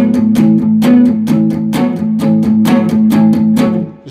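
Electric guitar chugs a riff on the low sixth and fifth strings, a steady rhythmic pattern of chopped strums with sharp attacks, loud and close, played alone without talk.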